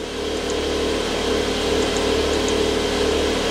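Steady low idle of a car's exhaust with the exhaust valve closed in Sport Plus mode, a constant muffled drone running unbroken at moderate level with no revving.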